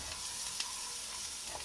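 Onions and celery sizzle in a pan over medium-high heat, a steady close crackling fry with faint stirring clicks, no voices.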